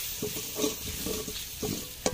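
A spoon stirs and scrapes through coriander, ground black pepper, turmeric and salt sizzling in a pan, with rhythmic scraping strokes over a steady frying hiss.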